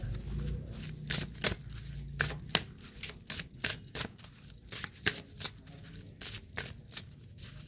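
Tarot cards are shuffled close up in a rapid, uneven series of crisp riffling slaps and flutters, with short pauses between bursts and no talking.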